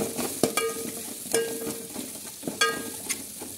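Dried red chillies, seeds removed, hit a pan of roasting garlic for a dahi kadhi tempering, giving a steady close sizzle broken by several sharp metal spoon clinks against the pan.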